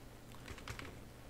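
Several quick, faint keystrokes on a computer keyboard as a command is typed into a Windows 10 recovery prompt, a short burst of soft clicks with no talking.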